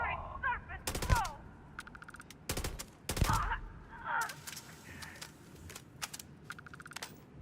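Gunfire from a gun in Starfield: Shattered Space, with several sharp bursts of rapid shots separated by pauses, loud and close, while a voice speaks briefly between them.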